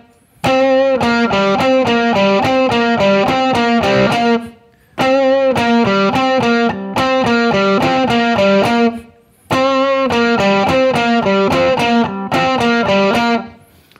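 Electric ukulele playing a rock riff through heavy distortion, repeated in three loud bursts of quick chugging chords with short pauses between, no voices.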